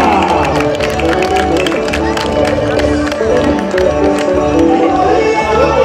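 Crowd clapping along at a festive procession for an anniversary celebration, loud dense palms mixed with music and cheering voices, continuous throughout.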